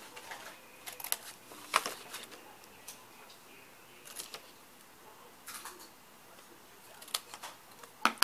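Scissors cut small paper pieces for a doll armoire, making quiet, sparse snips and clicks spaced irregularly over near silence.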